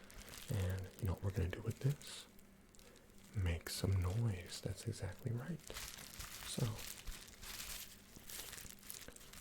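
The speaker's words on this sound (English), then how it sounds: "I just want you to listen as I crumple this and mess around with it" Bubble wrap is crumpled and handled close up in soft, crackly bursts during a quiet whispered ASMR hearing-test setting, with a voice speaking between the crinkles.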